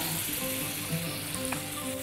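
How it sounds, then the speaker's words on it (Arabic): Shrimp sizzle and fry in a hot pan, a steady bright crackle with a few light clinks of a utensil, close and continuous. "يلا هننزل الجمبري ياخد الشوية بتاعته الحلوة"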